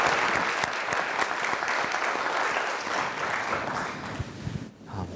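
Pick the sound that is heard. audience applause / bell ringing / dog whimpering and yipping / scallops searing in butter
audience applause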